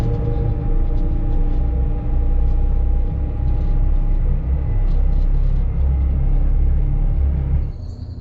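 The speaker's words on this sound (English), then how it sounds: "Drove the loader over here." A wheel loader drives across a farm, its diesel engine giving a loud, steady, close rumble with a constant low drone that eases off slightly at the end.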